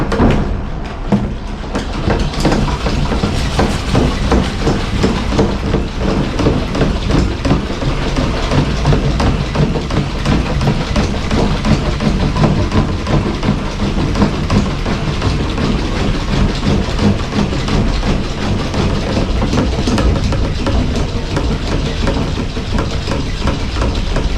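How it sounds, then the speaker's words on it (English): Hand crank pump drawing alcohol fuel from a bucket for a Subaru, a steady rapid rhythmic mechanical clatter that runs continuously, close and fairly loud with no talk. "We got a hand crank pump."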